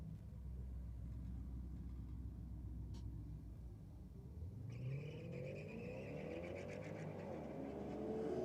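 A Holden Commodore drag races a hatchback down the strip at a Sydney drag night, engines rumbling steadily before a loud roar of acceleration builds and rises toward the end, with no talk.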